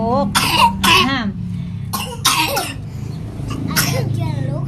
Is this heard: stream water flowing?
no